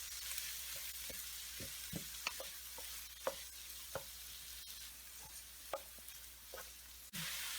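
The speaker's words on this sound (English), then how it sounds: "We can stir the onions until they become translucent." Onions frying in melted butter in a pan, a soft steady sizzle with a handful of light spoon scrapes and taps from stirring, quiet and close with no talking.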